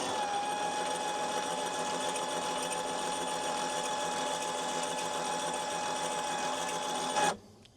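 Electric lift motor on a camper roof runs steadily with a constant whirring hum, loud and close, then cuts off abruptly near the end.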